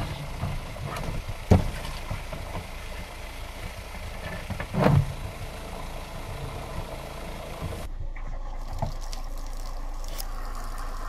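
An RV water pump pushing pink antifreeze through the plumbing during winterizing, a steady low mechanical drone with a couple of louder knocks, followed by a change to a hissing flow near the end.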